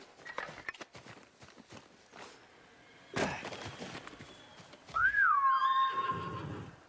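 A horse in Ghost of Tsushima gives a loud, rising-and-falling whinny after hoof steps and a burst of action, the neigh ringing clearly on its own.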